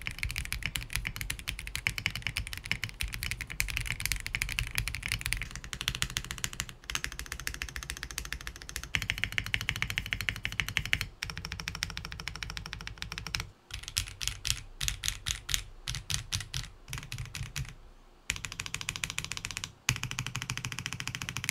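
Continuous typing on a Zoom 98 mechanical keyboard built without foam, giving a thin, slightly hollow clack; steady fast keystrokes with a few brief pauses, close and clear, no voices.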